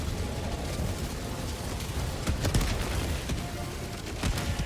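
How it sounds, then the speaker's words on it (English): Rapid gunfire and explosions from a co-op bug-fighting shooter game, a dense continuous barrage of shots and blasts with sharper bursts near the middle and end. "There are a lot of explosions, that much is for sure."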